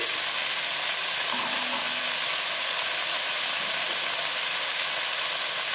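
Yardlong beans and vegetables frying in a pan for a niramish dish, a loud, steady sizzling hiss that runs unbroken close up, with no talk.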